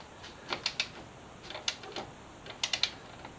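A ratchet tightens an axle bolt on a Yamaha FZ6R motorcycle's front wheel, giving short bursts of quick clicking in three or four groups, close and fairly quiet.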